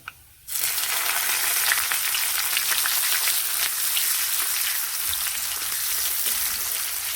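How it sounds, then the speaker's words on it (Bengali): Chopped onions drop into hot oil seasoned with Bengali five-spice and burst into a loud, continuous crackling sizzle that stays close and steady after a brief quiet start. "পেঁয়াজটা কুচিয়ে রেখেছি, পেঁয়াজ দিচ্ছি"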